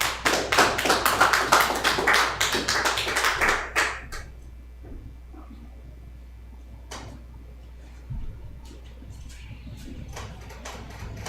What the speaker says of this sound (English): Clap it up for the Lord.